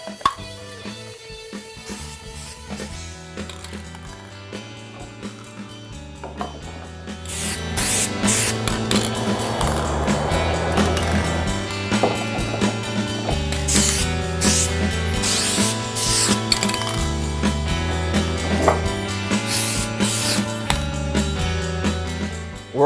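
Aerosol spray paint hisses in repeated bursts through a chain laid as a stencil over a Harley motorcycle part, building into a continuous spraying noise beneath loud background music.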